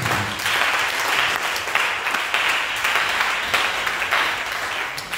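A church congregation applauds in acclamation of Jesus Christ, steady dense clapping that rolls on unbroken for the whole stretch, loud and close, with no voices standing out above it.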